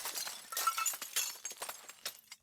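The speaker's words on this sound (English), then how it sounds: "Glass crashing as well." Glass shatters and crashes, followed by a rapid spill of tinkling shards and clinks that trail off over a couple of seconds.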